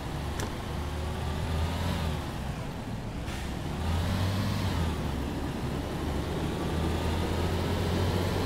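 Solaris GN 05 articulated bus at full throttle in OMSI 2, a steady loud diesel drone with rising engine tones sweeping upward as it accelerates, continuous throughout.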